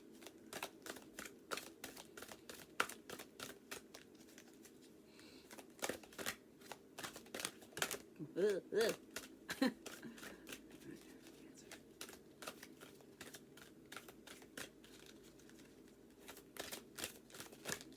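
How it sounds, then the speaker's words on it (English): Oracle cards shuffle in quick repeated riffling bursts, close to the listener, with some soft voice sounds in between. "let's pull you a couple oracle cards"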